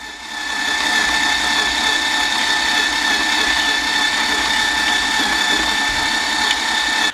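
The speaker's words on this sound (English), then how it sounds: "I'm going to place this onto my dough mixer with the hook attachment and then start mixing." Stand mixer with a dough hook kneading steamed-bun dough, a loud, steady motor whine with a constant mechanical hum running throughout.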